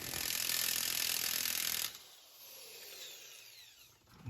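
An impact gun fitted with a 36 mm socket works on a wheel nut of an NSX. It gives a loud, steady, buzzing hammer for about two seconds, then cuts off, leaving faint mechanical rattling close by.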